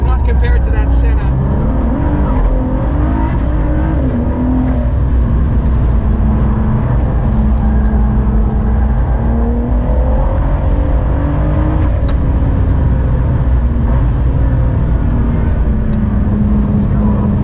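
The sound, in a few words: Ford GT driving on track chasing McLaren Senna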